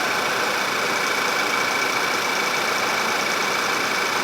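The engine of a 2011 Volkswagen CC idles with its A/C compressor running. It gives a steady, even hum with a constant hiss layered over it. No voices are heard.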